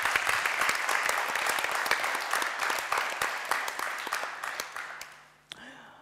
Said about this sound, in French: j'aimerais qu'on applaudisse pour Junior